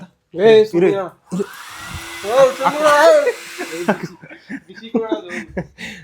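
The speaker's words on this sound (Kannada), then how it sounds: "ಇದು ಏರ್ ಡ್ರೈಯರ್ ಇದೆ." A bathroom air dryer blows with a steady whooshing hum for about two seconds in the middle, with people talking and laughing before and after it.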